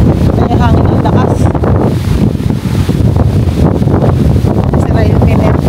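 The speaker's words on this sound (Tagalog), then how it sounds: "Lakas ang hangin!" Strong gusts batter the microphone outdoors near water, a loud, continuous low rumble and buffeting that swamps everything else, with a voice faintly underneath.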